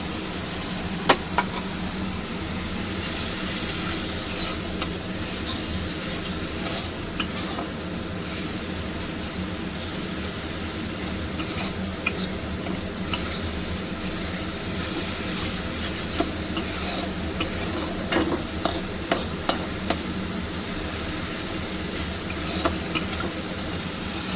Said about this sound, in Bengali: মশলাটা আমি একটু কষিয়ে নেব